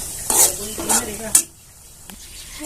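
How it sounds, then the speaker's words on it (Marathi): Masala being sautéed in oil in a pan for a ridge gourd curry, with three quick stirring scrapes over a sizzle that then fades to a quieter hiss. "मसाला छान असा परतून घ्यायचा आहे खाली लागू नाही द्यायचा"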